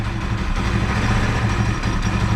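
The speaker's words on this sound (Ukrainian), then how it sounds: "Ось так мотор тільки шумить." Chinese YB-150 scooter engine idling steadily, cold and untuned, with a faint rear variator whine, a close, even, continuous low rumble with no talk.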